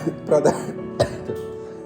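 Someone speaking at a Bible study coughs a few times in quick harsh bursts, close and fairly loud. A throaty rasp lingers between the coughs.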